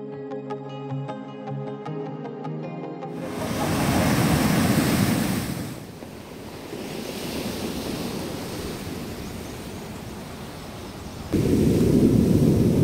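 Ocean waves wash onto the seashore at Baler Bay, Aurora, in loud surging rushes that swell, ease and return, with wind buffeting the microphone and no voices.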